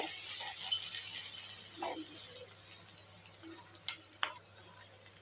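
Curry leaves, onion, chili and capsicum fry in a pan with a soft, steady sizzle, broken by a few faint stirring clicks.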